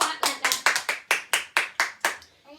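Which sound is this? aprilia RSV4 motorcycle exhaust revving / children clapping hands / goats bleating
children clapping hands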